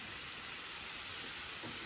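Seasoned poultry ballottine searing gently in a pan, a steady bright hiss and sizzle that holds evenly throughout, close and moderately loud.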